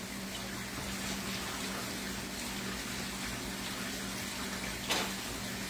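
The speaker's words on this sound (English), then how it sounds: "It doesn't do a lot of good to wash this when the stove's hot like this" Soapy water is wiped over a hot stove, producing a continuous, fairly quiet watery hiss with one brief sharper splash near the end.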